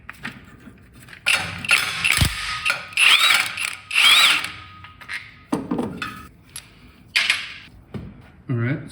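A hand ratchet clicks in quick bursts while undoing bolts on the transmission of a 1971 Pontiac GTO 455, mixed with clanks and knocks of metal tools, close up, with short pauses between bursts.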